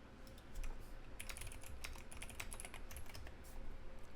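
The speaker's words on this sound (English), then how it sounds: "Sorry for the typing." Steady typing on a computer keyboard during a Front Punk 2 gaming session, a soft, continuous run of close key clicks with no talking.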